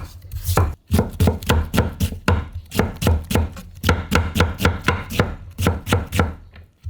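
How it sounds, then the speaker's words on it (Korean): A knife quickly julienning radish against a cutting board, with sharp, close thuds in steady rhythmic bursts and a few brief pauses. "칼로 이렇게 채를 썰어도 돼요"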